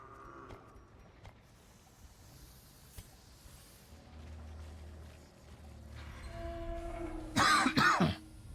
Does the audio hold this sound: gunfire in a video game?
no